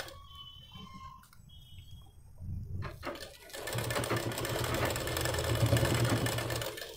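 A sewing machine stitches a sleeve onto a ready-made dress, running in a steady close whirring burst after some quieter handling noises at the start.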